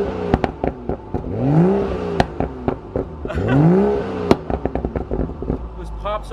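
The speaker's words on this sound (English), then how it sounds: "I'm gonna go ahead and hear the exhaust as well." A BMW 435i revs in a garage, two rising engine sweeps with sharp exhaust pops and crackles between them, close and loud, with sharp clicks scattered through.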